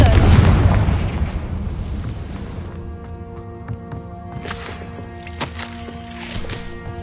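A Confringo blasting curse detonates in Hogwarts Legacy with a loud, deep boom at the start. The blast rumbles away into a quieter, tonal game background with a few small knocks.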